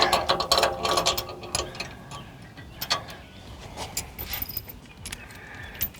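Close ratcheting clicks and metallic rattles as a locking hitch on a 1UP-USA bike rack fitted to a Jeep is unlocked, irregular bursts of clacking with quieter gaps.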